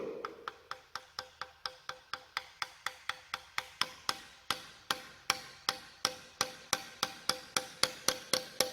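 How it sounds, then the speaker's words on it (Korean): A rubber or plastic mallet taps repeatedly on an engine part during engine maintenance, a long run of evenly spaced, sharp light knocks, close and fairly quiet, with no talking. "고무망치나 플라스틱 해머 이용해가지고 소리를 들어봐요"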